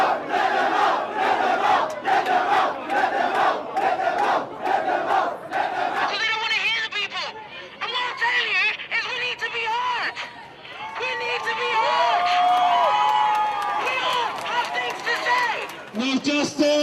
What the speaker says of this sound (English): crowd marches back to Grenfell Tower